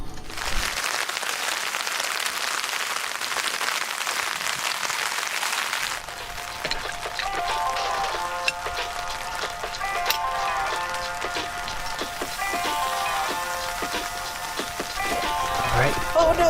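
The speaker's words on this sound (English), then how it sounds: "because it is starting to sprinkle" Dense pattering of light rain on a surface, steady throughout, with a faint tonal melody and scattered taps joining partway.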